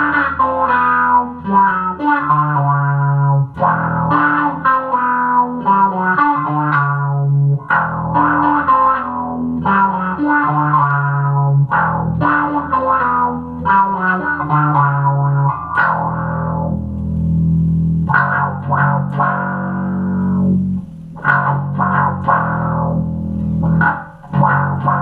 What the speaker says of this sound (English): And then you can hit the power chords with that fuzz distortion.